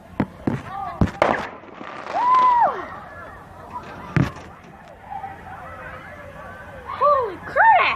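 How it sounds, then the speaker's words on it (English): Late-morning fireworks crack and pop in scattered sharp bursts, with whistling rising shells and a few people talking in the background. "they shooting they dumb fireworks when people are asleep"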